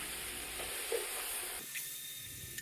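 Young jackfruit stir-fried with spices, including cumin paste, worked with a spatula in a pan: a soft sizzle with a few scrapes of the spatula, dropping quieter partway through.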